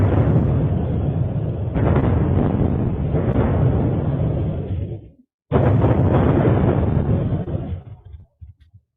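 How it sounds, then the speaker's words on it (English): Artillery barrage explosions recorded from a distance, a continuous heavy rumbling roar with overlapping blasts that cuts off briefly, then resumes before fading out. "they're actually able to capture the sound. So they're capturing the barrage."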